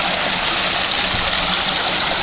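Stream water flowing steadily in a park, a close, constant hissing babble with no breaks and no voices.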